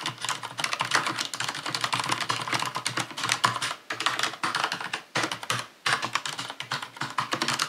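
Fast, steady typing on a mechanical keyboard, dense clacky keystrokes close up with a few brief pauses, no voices.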